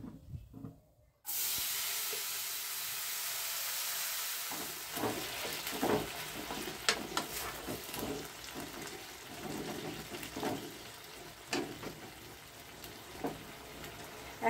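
Boiled dal is tipped into a hot spice tempering, setting off a sudden loud hissing sizzle that settles into crackling, spattering bursts that go on for several seconds.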